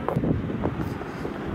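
Steady wind buffeting the microphone, a constant low rumble with a few brief gusts and a faint voice in the background.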